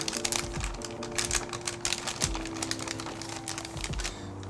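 Crinkly plastic rustles and crackles as the top of an MRE flameless ration heater pouch is folded over, close and fairly loud, with several sharp crisp snaps amid continuous handling noise.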